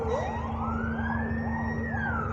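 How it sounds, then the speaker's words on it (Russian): An ambulance siren wails with a rising, sweeping tone over steady low traffic rumble in Yakutsk's airport area, fairly distant and continuous throughout. "Скорая поехала"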